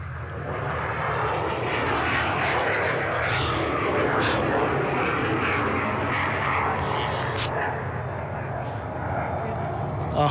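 The Boom XB-1 supersonic jet gathers speed down the runway on its takeoff roll, giving a loud, continuous roar with a steady hiss, while people talk over it throughout.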